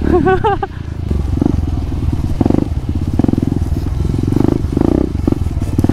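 A motorcycle in high gear climbs a slow off-road trail uphill, its engine held at high RPM with a loud, throbbing roar that surges in repeated pulses. A voice is heard briefly near the start.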